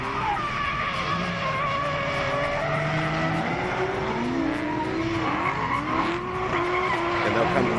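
Drift cars skidding around the DriftWars track at Manfeild, one car running four wheels off, with sustained loud engine roar and tire squeal sweeping up and down throughout, plus faint commentary-like voice underneath.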